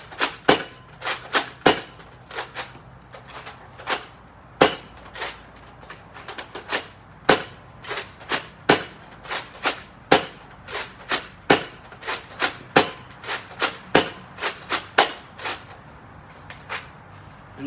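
A Nerf Rival Apollo pistol fired through a whole magazine, around thirty sharp snapping shots at an uneven rhythm with short gaps between bursts, loud and close, no talk.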